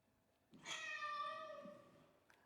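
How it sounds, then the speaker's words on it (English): A hungry cat lets out one drawn-out, clear meow, rising and then slowly trailing off, heard alone at low volume against near silence. "So this first meow."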